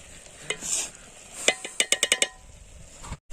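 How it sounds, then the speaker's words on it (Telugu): Chicken curry with curd is stirred in a pan: soft scraping and frying, then a quick run of five or six bright metallic clinks of a spoon against the pan edge. "ఇప్పుడు మొత్తం కలిపెట్టుకోవాలి బాగా"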